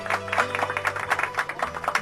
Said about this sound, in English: Yes, thank you for the clapping.